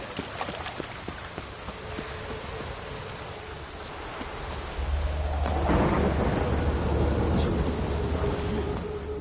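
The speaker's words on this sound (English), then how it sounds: "Witches have conjured rain." Steady rain pours in the video game The Witcher 3, with a low rumble of thunder rolling in partway through and lingering, no voices, a continuous stormy wash.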